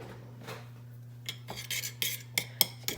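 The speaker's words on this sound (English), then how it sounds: "You're going to grab a spoon and mix it together." A metal spoon clinks and scrapes against a container while gelatin is stirred into hot water, several uneven clicks and taps over a low steady hum.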